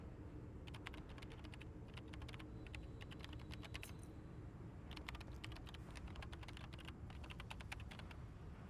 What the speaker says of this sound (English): Love the sound of those keys, man.